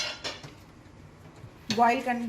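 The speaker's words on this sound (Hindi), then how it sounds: "सबसे पहले हम फ्राई पैन ले लेते हैं" A metal frying pan clatters and rings as it is picked up and handled in a home kitchen while aloo cutlets are being prepared. A short burst of knocks and a ringing tone follows a quiet stretch.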